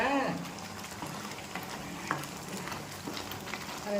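A thick Chettinad chutney bubbles and simmers in a pan, a soft continuous burbling with occasional pops.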